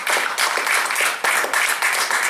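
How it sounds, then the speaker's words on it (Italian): An audience bursts into applause, a dense wash of many hands clapping with a brief dip partway through, steady and fairly loud. "Stava nascendo un applauso"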